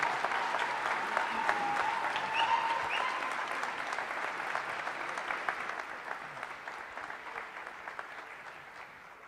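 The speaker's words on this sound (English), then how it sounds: "please give a huge round of applause for School District 67's Indigenous graduates of" A crowd at a school district's Indigenous graduation ceremony gives graduates a long round of applause, busy clapping that starts strong and slowly thins and fades, with a faint voice briefly heard beneath it.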